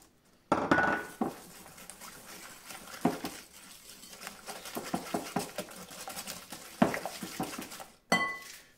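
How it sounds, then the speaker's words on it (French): A whisk beats two eggs in a glass mixing bowl with quick, uneven clinks and taps against the glass. The beating comes in bursts with brief pauses, and a short clatter follows near the end. "j'ai mis les 2 œufs dans un saladier. Alors je vais les mélanger"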